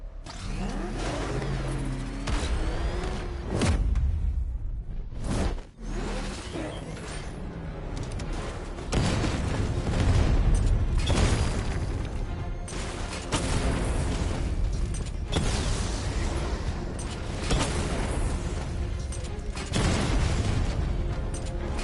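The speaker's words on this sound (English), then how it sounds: "Your 60mm cannon will penetrate these heavily armored units, but it'll take a few direct hits to destroy them." Heavy armored combat from the video game Batman Arkham Knight, with 60mm cannon fire: loud, dense booms and blasts crowd together over a roaring engine rumble, several sharp impacts standing out as the noise swells and pulses.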